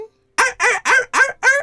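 Rooster sound: a short quick series of five evenly spaced harsh, crowing-like bursts, close and loud, with no talking.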